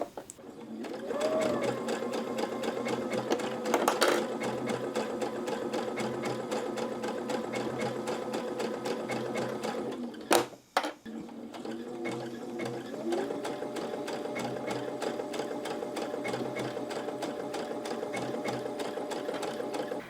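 Sewing machine stitching a blind hem in fabric runs steadily with a fast, even whirring hum, close and alone, broken by a brief pause near the middle.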